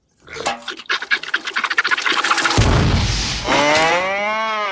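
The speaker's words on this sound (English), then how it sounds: "I'm gonna go outside and milk the cow" A cow, in a cartoon kitchen scene, gives a long, loud moo that starts as pulsing grunts and swells into a sustained bellowing call, close and alone.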